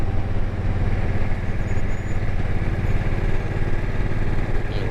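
A small C90 motorcycle rides along a curvy road, its engine holding a steady, close, continuous drone with road and wind noise throughout and no talking.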